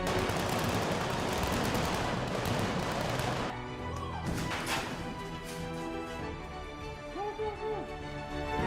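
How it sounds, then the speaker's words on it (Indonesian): Dense rumbling gunfire and blasts from Black Panther film scenes fill the first few seconds, then fade to softer scattered impacts and distant booms. "Kemudian adegan tembak-tembakan dan ledakan."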